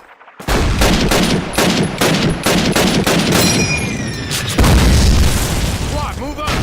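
Rapid gunfire in Call of Duty, loud bursts of automatic fire and booming shots repeating in quick succession after a brief quiet start, with shouted voices mixed in.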